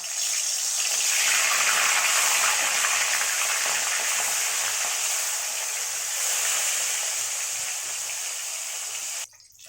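Fish sizzling in hot oil, a loud, steady frying hiss that carries on without pause before cutting off abruptly near the end.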